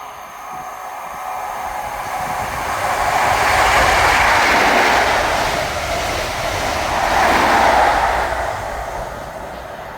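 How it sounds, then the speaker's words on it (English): Scotrail train from Edinburgh Waverley to Aberdeen passing through a station at speed, a loud rushing rumble that swells twice as the cars go by, with no voices. "Passing through now is a Scotrail service from Edinburgh Waverley to Aberdeen."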